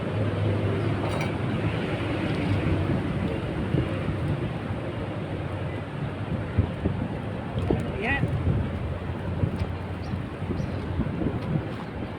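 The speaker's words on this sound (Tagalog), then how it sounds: "Lakas po ng hangin" Strong wind buffets the microphone in a constant roar, with engine-like rumble beneath and occasional faint voices and knocks.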